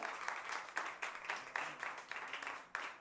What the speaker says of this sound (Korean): 박수를 한번 쳐주실까요?